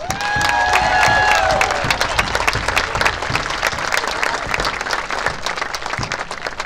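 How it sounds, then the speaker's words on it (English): A large crowd at a 2018 Special Olympics event breaks into loud applause and cheering. Whistle-like tones ring out early, then dense clapping carries on strongly throughout, close and full. "Give everybody who makes this event a huge round of applause."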